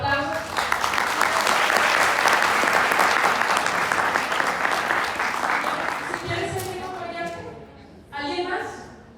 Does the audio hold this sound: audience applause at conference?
yes